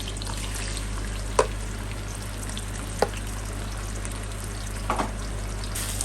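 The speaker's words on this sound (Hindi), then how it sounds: "सबसे पहले हमने कढ़ाई में थोड़ा ऑयल लिया है और उसमें हम प्याज शामिल कर रहे हैं।" Two medium sliced onions frying in oil in a kadhai give a steady, quiet sizzle throughout, with a few brief clinks of stirring and no talking.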